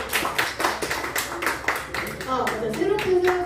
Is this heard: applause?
yes